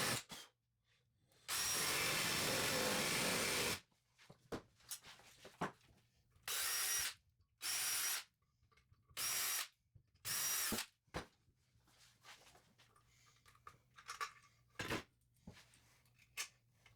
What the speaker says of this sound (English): I used the Forstner bit as usual,